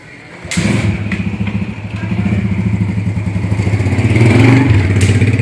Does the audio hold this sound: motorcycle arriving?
yes